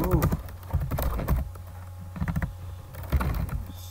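Rapid bursts of computer keyboard typing, with clustered keystrokes separated by short pauses, close and fairly loud with no voice over them.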